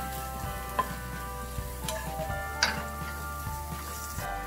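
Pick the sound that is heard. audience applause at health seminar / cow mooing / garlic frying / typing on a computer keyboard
garlic frying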